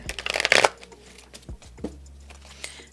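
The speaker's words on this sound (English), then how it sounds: "Okay, that was a weird shuffle." Tarot cards are shuffled close up in a quick, dense riffle, followed by a few soft taps and slides of the deck as it settles.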